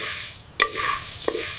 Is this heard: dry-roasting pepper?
yes